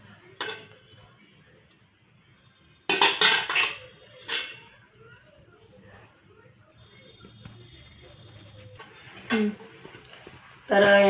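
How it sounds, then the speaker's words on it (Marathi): An oiled metal pot is lowered into an idli steamer, giving a cluster of close clinks and clatters of metal on metal, a few more scattered knocks later on, and talk in between. "हे भांडं असं याच्यात ठेवून द्यायचं"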